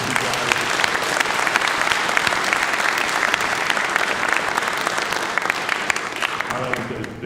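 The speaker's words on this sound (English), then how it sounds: "can I get a round of applause for those guys over there" Sustained applause from an audience at a live-streamed event, thanking the volunteers and crew who stayed up all night setting up, dense steady clapping that continues throughout with some voices mixed in.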